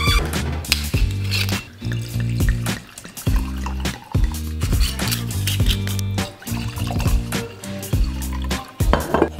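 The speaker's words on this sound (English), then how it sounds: "So now we're sitting by the fire where I'm about to pour us both a glass of wine" Wine poured into glasses beside a fire, gurgling and splashing in several close, fairly loud bursts with short pauses between pours.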